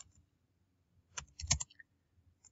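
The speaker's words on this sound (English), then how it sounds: "we have to type this command" Keystrokes on a computer keyboard as a command is entered at a Windows 10 administrator command prompt, a quiet, close cluster of quick taps, alone with no talking.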